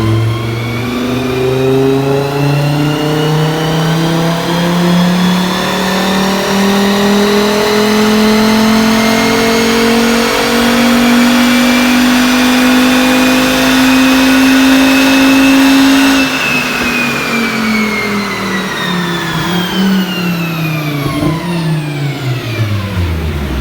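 Tuned Volvo V70R engine on a dyno, revving in one long steady climb to a loud peak, then dropping off and winding down, heard close with no talking.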